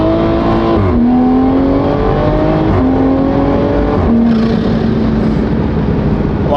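A Toyota Supra fitted with a drag pack accelerates hard in second gear with wheelspin, its loud engine note climbing through repeated rising sweeps as the revs build and drop between bursts, close and continuous, with no talking.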